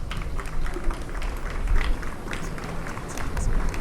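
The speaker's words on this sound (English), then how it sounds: "Let's receive them warmly with a round of applause." A funeral audience breaks into sustained applause, a dense, even wash of many hands clapping at moderate distance, steady for several seconds with no break.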